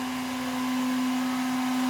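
An edge banding machine with a faulty switch hums loudly and steadily while iron-on edging is pushed through its rollers against a workpiece, giving a constant motor whine with no breaks.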